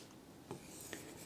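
Brief scratchy strokes of a pen or marker on a classroom board, a couple of quick faint marks.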